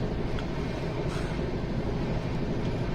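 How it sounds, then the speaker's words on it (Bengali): Steady rumble and rattle of the Sealdah-Bikaner AC Duronto Express running along the track, a continuous, fairly soft roll with no clear breaks. "এমনি ট্রেন মোটামুটি ভালোই চলছে"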